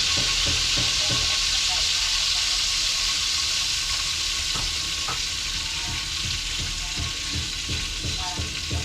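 Lobster frying in butter in a pan, a loud steady sizzle with crackling spatters and a few stirring knocks throughout, close up and continuous with no talk.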